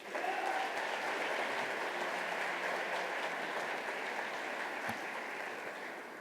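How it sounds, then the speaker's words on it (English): Sustained applause from a sizeable audience at an evening lecture, steady clapping that holds for several seconds and tapers slightly toward the end. "Let's give her a round of applause."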